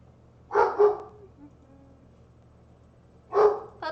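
Puppies barking in short, sharp bursts: a quick pair of yaps early on, then a pause with faint background murmur, and another bark near the end, fairly close.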